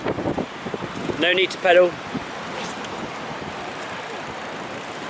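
Wind blows in a steady, rough roar across the microphone while riding a bike train beside a pier; a person speaks briefly at first, then the rushing wind continues alone.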